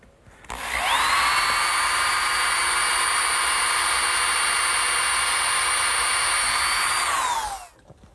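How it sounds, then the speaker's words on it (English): A power drill runs steadily for about seven seconds while pre-drilling holes through a wooden bracket for nails, giving a loud, close, continuous whine that holds an even pitch and then spins down at the end. "I'm going to have to pre-drill some holes through the bracket for the nails"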